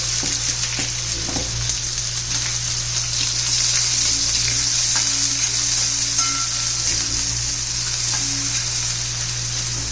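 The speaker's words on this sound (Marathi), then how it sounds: "आता बारीक चिरलेला कांदा घालायचा आहे" Finely chopped onion frying in a pan over garlic and spluttered mustard seeds for Maharashtrian brinjal bharit, a loud close steady sizzle with a constant hiss and a low hum beneath, no talking.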